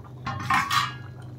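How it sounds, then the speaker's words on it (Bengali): A metal lid lifted off a pot of moong dal simmering on a gas stove, giving a couple of close clinks and scrapes of metal over a low steady hum. "ঢাকনা উঠিয়ে এখন আমি দেখে নেব।"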